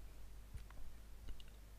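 A computer mouse is clicked in Photoshop Elements, giving a couple of soft, brief clicks in an otherwise quiet room.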